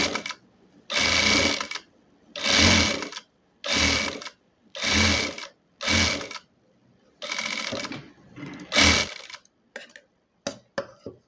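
A sewing machine stitches the lining of a churidhar in short, loud, whirring bursts separated by pauses. The runs grow shorter and choppier toward the end.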